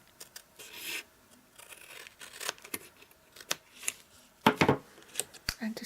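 Scissors snipping through a cardboard cake box flap along a line, giving quiet, irregular crisp cuts and rasps with a few sharper snips near the end.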